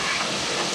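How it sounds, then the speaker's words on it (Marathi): Black-eyed peas (cowpeas) sauté in hot oil in a pot over a high gas flame, making a steady, loud, dense sizzle that fills the whole stretch without a break. "हे आता मी अशी परतून घेते चवळी तेलामध्ये"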